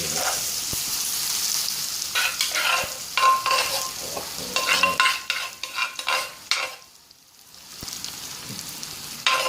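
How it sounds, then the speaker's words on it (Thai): Jackfruit stir-fried in garlic-fried oil, crackling and sizzling loudly with frequent scraping strokes of a spatula against the pan, then a short quiet pause before frying resumes. "เอาน้ำมันที่เจียวกระเทียมนี่แหละครับ น้ำมันเกาที่เจียวกระเทียม ผัดเลย"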